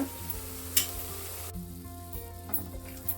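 Sugar syrup boiling in a pan for boondi laddu, a steady close sizzling bubble with a few brief stirring clatters, continuing without talk.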